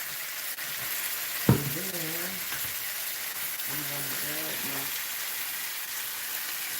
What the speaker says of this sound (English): Another tablespoon of butter is being added to this.